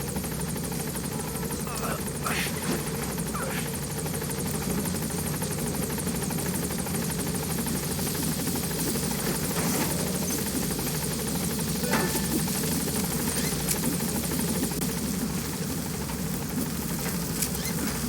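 A helicopter gains altitude in the video game Metal Gear Solid V, its rotor and engine making a steady, loud, continuous buzzing throb that fills the whole stretch with no break.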